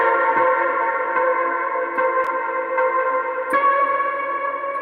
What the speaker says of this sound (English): And the big reverb.